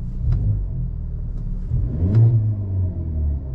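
A parked Hyundai Avante N engine revs up briefly from idle with a deep rumble, then settles back down, heard close and fairly loud.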